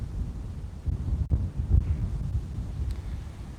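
Gust of wind buffeting the microphone outdoors at a snowboarding spot, a steady low rumble lasting several seconds with no talk.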